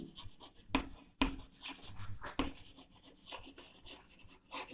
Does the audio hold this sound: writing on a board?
yes